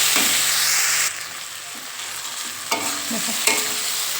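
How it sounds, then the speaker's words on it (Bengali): Vegetables fry in a pan with salt, turmeric, sugar and a little coriander powder while being stirred. A loud, steady sizzle fills the first second, then it settles into a quieter hiss broken by a few sharp spatula scrapes, with no talking. "তো চলো সবজিটা ভাজা হয়ে যাক"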